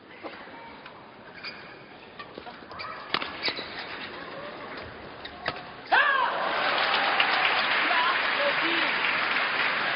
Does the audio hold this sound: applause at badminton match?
yes